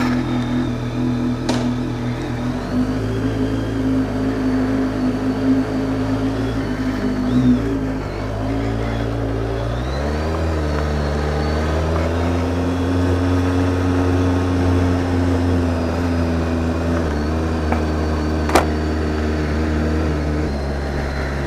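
A BMW K1300S motorcycle riding away from Gatwick on a sunny day, its engine droning steadily with shifting pitch as it changes gear and accelerates, wind rush underneath and no talking.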